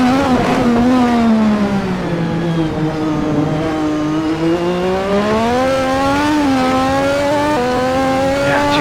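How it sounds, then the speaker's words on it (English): Turbocharged Lotus 98T Formula One race car engines roar loudly and continuously at Imola, their pitch climbing and dipping as they rev through gears, with no voices. "if not for the roar of these turbo-backed engines."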